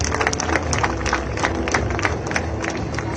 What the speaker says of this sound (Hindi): एक बार जोरदार तालियां हो जाए हमारे जाबाज पायलट्स के लिए